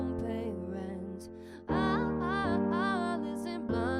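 A simple scratch piano track plays steady sustained chords with a sung vocal line on top, a rough demo take that runs continuously and fairly loud throughout.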